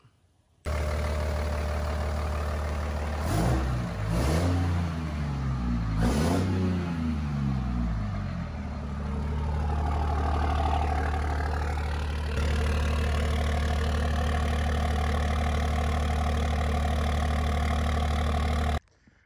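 A car fitted with a Smeding engine and a turbo starts up and settles into a steady idle. A couple of revs early on are followed by a constant low rumble, close and loud, with no talking.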